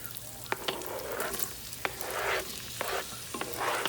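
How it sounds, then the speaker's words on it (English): Oil sizzles and crackles steadily in a pot in an RV kitchen, with occasional sharp pops and clinks of stirring over the hiss, heard up close. "Oil sizzling."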